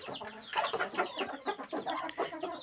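Hens and a rooster cluck in a busy, overlapping run of short calls, close and moderately loud, with no speech among them.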